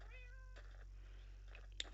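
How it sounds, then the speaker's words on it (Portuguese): Cats in Minecraft Pocket Edition meow faintly: one short tonal mew at the start, then softer mews later, ending with a small sharp click, over a low steady hum. "Os gatos aparecem do nada."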